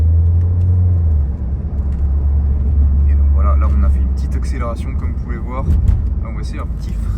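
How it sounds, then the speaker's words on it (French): Mercedes-Benz A-Class AMG Line car accelerating briefly, heard from inside as a steady, loud low engine and road rumble, with a voice talking over it from about three seconds in. "là on a fait une petite accélération comme vous pouvez voir"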